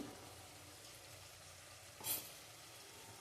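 Spice paste sautéed in a pan, with a faint steady sizzle of frying and one brief utensil scrape partway through, soft and close with no speech.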